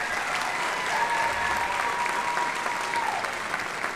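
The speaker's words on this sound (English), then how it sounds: "Can you give them another round of applause?" An audience claps for a student ensemble at a junior spring school concert, with steady, full applause throughout and a brief held tone sounding faintly beneath it.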